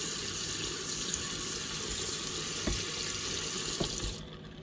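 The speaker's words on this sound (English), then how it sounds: "I'm going to come to our kitchen sink and run hot water." Hot water runs from a kitchen sink faucet in a steady, even hiss and splash, close by, then cuts off near the end.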